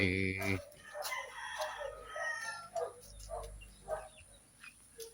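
A rooster crows loudly at the start, followed by scattered hen clucks and short calls against a quiet farmyard background.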